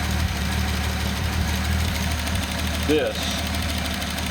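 A Datsun 280ZX turbo engine idles close by with a low, uneven burble and steady rumble, while someone talks over it.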